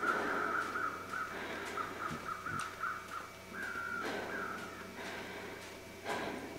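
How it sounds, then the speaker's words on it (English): Crows caw repeatedly in an outdoor hunting video game, a steady run of harsh calls over a constant ambient hum, with a few brief snorts or breaths close by. "Alright, you freaking crows."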